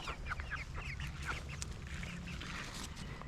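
Chickens clucking and murmuring in a steady, busy chorus over low rumbling background noise, with a few sharper calls standing out.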